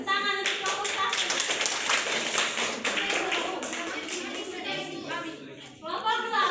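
Children in a primary school classroom clap together in quick rhythmic bursts of applause, close and lively, with voices chanting along.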